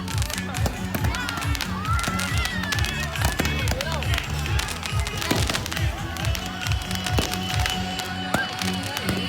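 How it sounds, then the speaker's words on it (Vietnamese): Mid-Autumn festival fireworks display in Tam Trúc, Vietnam, with rapid overlapping bangs and crackles, whistling rockets rising, and booming bursts throughout, alongside crowd noise and people talking. "Để cùng chiêm ngưỡng màn bắn pháo hoa Làm. chào mừng lễ hội Trung thu năm 2025."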